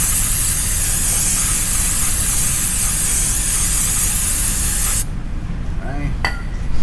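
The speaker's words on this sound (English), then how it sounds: "I'd rather use brake cleaner to clean the calipers and the old pads" Brake cleaner blasts onto the rear calipers and pads of a 2015 Maserati GranTurismo Convertible in one long, loud, close hiss that stops abruptly near the end, followed by a few light handling clicks.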